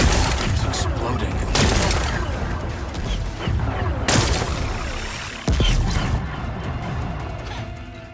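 Rocks blasted apart in Horizon Forbidden West: dense, loud crashing explosions and rumbling debris, with a sharp burst near the start, another around four seconds in and a drop then renewed blast later, under a busy game soundscape.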